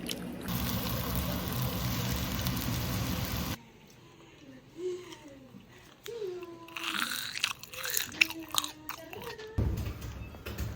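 Crisp crunching bites and chewing up close, with a burst of noise at the start and faint tonal murmurs between the crunches.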